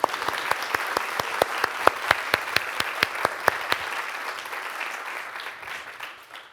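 An audience at a science talk claps to welcome the guest speaker Juan Nepote, with distinct rhythmic claps over a softer bed of applause that fades away after a few seconds.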